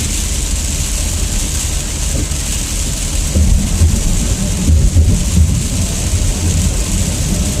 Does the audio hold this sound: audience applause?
no